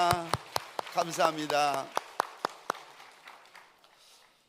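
During a Sunday worship service, sharp, evenly spaced claps ring out in the church, first under a man's speech and then alone as they fade.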